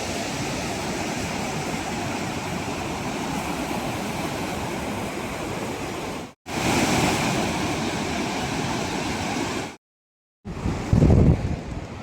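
Sea waves wash steadily onto a beach in a loud, continuous roar of surf with wind buffeting the microphone, broken by two brief dropouts before the wash resumes.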